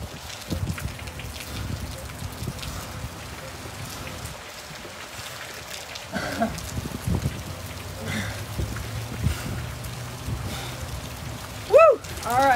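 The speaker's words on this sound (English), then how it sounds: "Rain is coming down, it feels good." Rain falls outdoors in a steady, even hiss that fills the whole stretch, with a few louder patters and a brief sharp whistle-like sound near the end.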